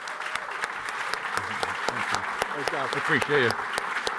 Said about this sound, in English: Give a big, big, big applause